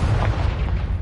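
A Confringo blasting spell goes off in Hogwarts Legacy, a single loud, close, booming explosion with a heavy low rumble that fills the short moment on its own.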